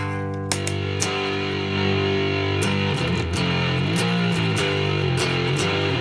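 Fuzzy, distorted electric guitar chords through an early-style Muff fuzz pedal ring out, with a few sharp pick attacks and shifting bends, loud and close with no voices.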